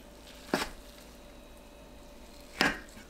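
Two sharp knife chops through Korean fish cakes against a cutting board, about two seconds apart, in a quiet room.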